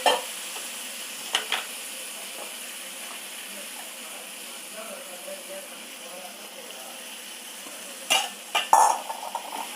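A spoon stirs lentils into sautéed tomatoes in a pan for sambar, with a soft, continuous sizzle and occasional scraping clinks nearby.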